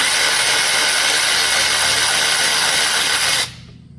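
An electric ratchet runs steadily near the engine of a 2018-or-later Mustang GT while removing a coil hold-down during spark plug replacement, a loud continuous whir that stops abruptly near the end, with no talk.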